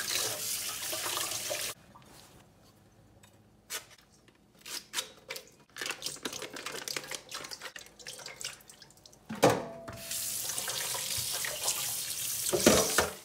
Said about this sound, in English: First, we wash everything.